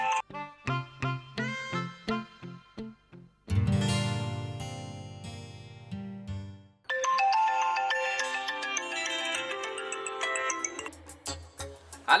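A mobile phone rings with a plucky, chiming melody of repeated notes, switching to a fuller sustained tune and then a busier electronic passage, played loudly and alone.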